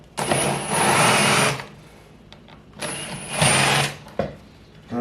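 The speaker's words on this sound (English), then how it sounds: "I'm going to use a Forstner bit for this." Power drill with a Forstner bit boring into wood, two loud whirring bursts of about a second and a half each, separated by a quiet pause, with a small knock between them.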